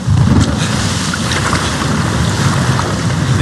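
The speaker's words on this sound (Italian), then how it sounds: "Nei tempestosi mari dell'oceano." Stormy ocean waves in Uncharted 3 make a loud, unbroken roar of surf and wind with a heavy rumble, constant throughout with no talk.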